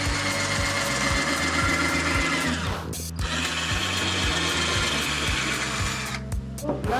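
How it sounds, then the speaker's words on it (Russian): A power drill drilling and driving screws into homemade stilts, whirring continuously and loudly, its pitch shifting as it bites in, with a brief pause midway. "Просверлил, вкрутил."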